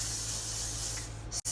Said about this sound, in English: spray the brush, not my hair